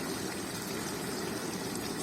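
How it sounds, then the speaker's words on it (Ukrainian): A Hotpoint Ariston dishwasher runs its wash cycle, a steady muffled hiss of spraying water and pump hum, faint and unbroken. "Так, все миє, посудомийка миє."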